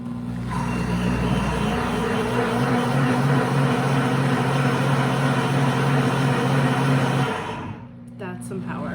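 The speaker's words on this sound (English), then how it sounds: "Okay, so the blender has now stopped." A countertop blender runs loud and steady for about seven seconds while whipping up hot chocolate, its motor whine constant before cutting off abruptly near the end.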